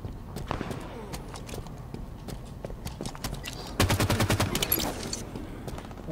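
Rapid gunfire from the Halo 5 game, with scattered single shots early and then a dense burst of quick, evenly spaced shots, fairly faint under game noise.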